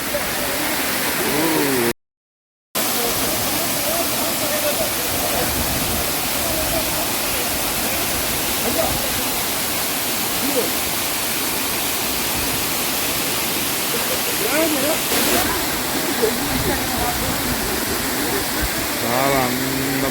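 Steady, dense roar of the Jhari Waterfalls fills the whole stretch, loud and close, with a brief dropout early on and faint voices beneath.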